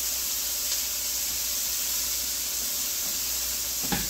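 Philly cheesesteak filling sautéing in a skillet, a steady close hiss of frying with a soft crackle near the end.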